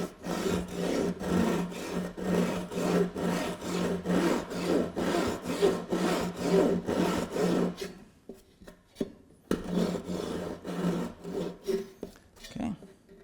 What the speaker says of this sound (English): when you're sawing this, you'll notice that the kerf of a table saw is far greater than this